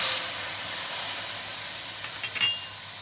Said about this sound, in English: we've heated the wok, and to it we're adding our soy sauce